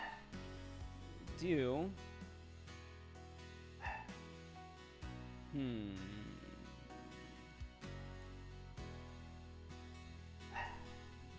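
A dog barks and whimpers outside a door wanting in, with several separate yips and rising whiny howls spread across the stretch, moderately close, while a person briefly speaks.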